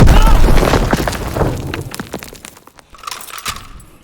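A grenade explosion in the Call of Duty WW2 D-Day campaign: a loud, close boom with crackling debris that decays over a few seconds, followed by scattered battlefield cracks and faint voices.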